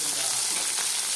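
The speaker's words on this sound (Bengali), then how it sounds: "দিয়ে আবার এটাকে ভালো করে লাল লাল করে ভেজে" Chopped onion and tomato with salt fry in a pan, giving a dense, constant sizzle with no break.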